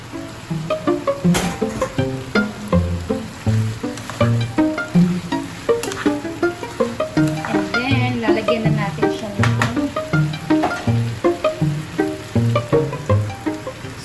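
Vegetables frying and being stirred in a pan for yakisoba, a loud continuous sizzle broken by rhythmic scraping and tossing strokes throughout, close up, with no talking.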